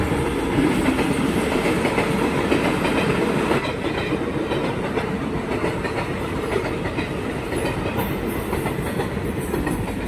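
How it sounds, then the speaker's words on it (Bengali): A train passes close on a railway track, a loud continuous rolling rumble with rhythmic clickety-clack of wheels throughout. "আর এখন যাচ্ছে রেলটা"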